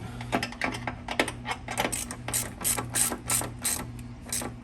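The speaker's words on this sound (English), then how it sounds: "And just take your ratchet." A ratchet tightens the battery terminal nut on a Toyota Tundra, a run of close, crisp clicking strokes in short uneven bursts with no talk over it.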